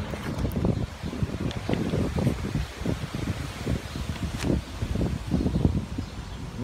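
Gusty wind buffeting the microphone with a low, rumbling roar that rises and falls continuously, no voices.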